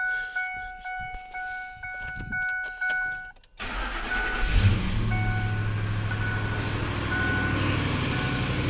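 A 2004 Ford F-150 4x4 pickup cranks over and its engine fires up, settling into a loud steady idle close by. A few faint beeps come before the start.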